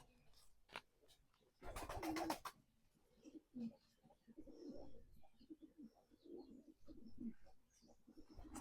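Domestic pigeons coo softly at close range in a quiet indoor setting, with repeated low, throaty calls, brief flutters and a few sharp clicks between them.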